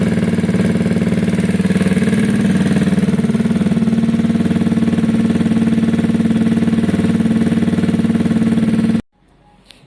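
A Gilera DNA scooter engine idles steadily while warming up, a loud, close, even mechanical drone that runs without a break for about nine seconds and then cuts off abruptly into near silence.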